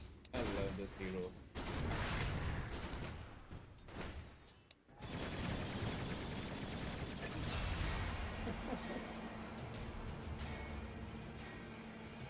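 Hero in Dota 2 firing guns and missiles, heard as dense, continuous rattling gunfire and explosive bursts that fill the mix at high intensity, with a brief drop before the barrage resumes.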